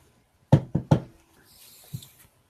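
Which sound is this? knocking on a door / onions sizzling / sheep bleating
knocking on a door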